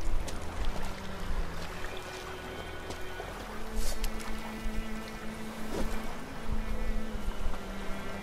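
Bees buzzing in the video game Witcher 3, a persistent insect drone layered with game sounds and scattered clicks and impacts, moderately loud throughout.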